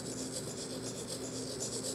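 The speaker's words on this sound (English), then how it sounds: "That's the sound of a pencil writing on a screen." A Samsung Galaxy Z Fold 5 S Pen plays a simulated pencil writing sound on the screen, a soft continuous scratchy rasp with slight rhythmic strokes, quiet and close.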